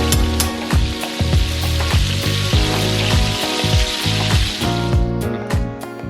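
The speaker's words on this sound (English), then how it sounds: "my chicken has been searing for about maybe 4 to 5 minutes. So now I'm flipping them over" Chicken thighs searing skin-side in a hot pan, a loud continuous sizzle and crackle with scraping and tongs clinking at regular intervals as pieces are flipped, the frying fading slightly near the end.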